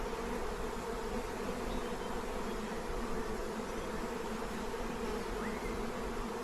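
During a beehive inspection, honey bees hum in a thick, continuous buzz close by, steady throughout with no voices.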